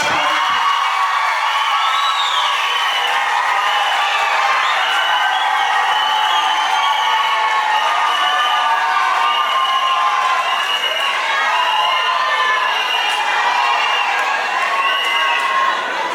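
Guests at a civil wedding ceremony cheer and shout in a continuous loud crowd roar, whoops and raised voices blending with scattered clapping throughout.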